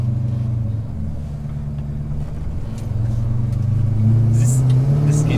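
An HQ Holden fitted with a Falcon T5 short shifter on a warm test drive, its engine rumbling and rising in pitch as it revs, steady and close under faint talk.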